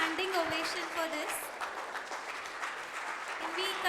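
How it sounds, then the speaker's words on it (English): A round of applause at an AI for doctors conference after a talk, a faint, steady patter of many hands clapping with voices and cheers mixed in. "Can we continue the round of applause?"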